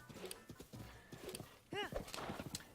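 Horse galloping in the video game Zelda Breath of the Wild, rapid hoofbeat clip-clops in quick succession with a short neigh partway through, fairly faint, with a voice speaking briefly.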